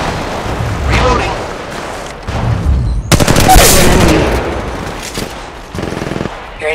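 Repeated gunfire in Apex Legends Mobile, with bursts of shots, a loud sharp blast mid-way, and rapid follow-up fire, all under intermittent in-game voice callouts.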